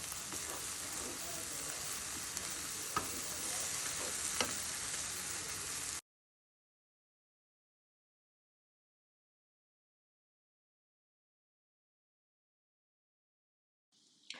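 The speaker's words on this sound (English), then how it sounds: "We are going to cook these down until the onions are actually caramelized." Onions and garlic fry in a pot, a steady close sizzle with a few stirring knocks that stops abruptly after about six seconds, then near silence with a faint sound at the very end.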